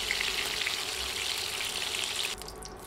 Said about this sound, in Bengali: তাই মাছ হালকা করে ভাজবেন। ভাজা হয়ে গেছে।